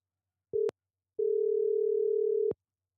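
A telephone ringback tone sounds during an outgoing call: a short beep, a pause, then one long steady tone, clean and isolated with no talk.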